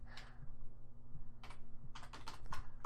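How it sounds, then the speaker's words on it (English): Someone types on a computer keyboard with one hand, giving sparse clusters of close key clicks with pauses between them over a steady low hum. "I'm typing one hand because I've got a big fat microphone in the other hand."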